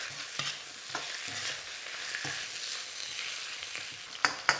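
Pork belly slices searing in a pan for a home-style double cooked stir fry, a steady close sizzle and hiss with a few scraping stirs and two sharper clinks near the end.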